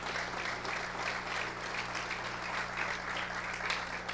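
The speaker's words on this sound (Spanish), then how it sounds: "les damos un fuerte aplauso también" Steady applause from a church congregation fills the room, dense and continuous clapping at moderate level with a low hum underneath and no talking.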